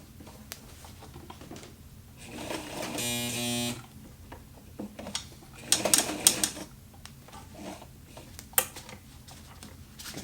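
A walking foot sewing machine stitches fabric that struggles to feed, running in two short bursts. There is a steady whirring run early on, then a rougher, clattering spurt a few seconds later, with quiet handling noises between them.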